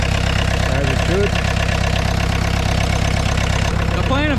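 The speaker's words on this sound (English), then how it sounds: "You can start it back up if you want. Should fire up." A VW Mk2 turbo diesel engine, just resealed at the injection pump head, runs loud and close at a steady clattering idle throughout, with people talking faintly under it.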